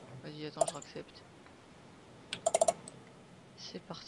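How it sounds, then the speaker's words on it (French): Computer mouse clicks picked up through a gaming headset, heard as a few sharp scattered clicks with a quick cluster of four near the middle, faint and close over low background noise. "les clics de souris de Ben"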